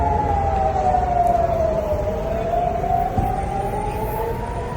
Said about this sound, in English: you can hear the air raid sirens and see Israel's air defenses intercepting that missile over Tel Aviv